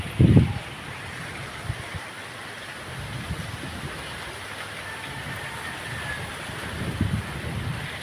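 Strong wind blows steadily along the seashore, a broad roaring rush with low gusty thumps against the microphone, loud and continuous with no voices.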